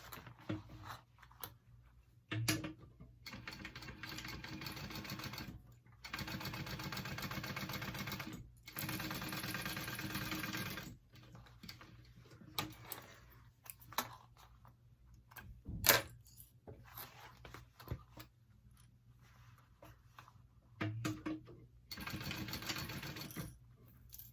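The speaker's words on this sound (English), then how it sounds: "go ahead and sew that on." A sewing machine stitches a pocket onto a backpack in several loud mechanical bursts of rapid whirring, separated by short quiet pauses.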